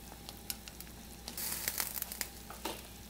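A pot of Vietnamese caramelized pork belly with eggs and star anise bubbles at a rolling boil, a busy crackling patter that swells and gets denser in the middle.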